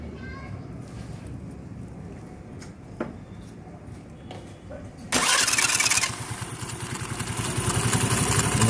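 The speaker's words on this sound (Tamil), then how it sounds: "ஸ்டார்ட் பண்ணும்போது வந்து ஒரு கிளச்சு சவுண்டு வந்துச்சு" A motorcycle engine with a bent crankshaft cranks on the self-starter and fires up, a sharp clutch clatter breaking in at the start, then running loud and rough close by, the revs climbing steadily.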